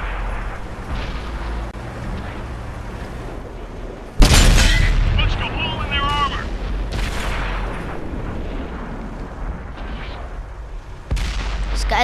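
A heavy T34 premium tank's cannon firing in World of Tanks, a loud close blast followed by a long rumbling decay, then a second shot, over steady engine drone and game noise.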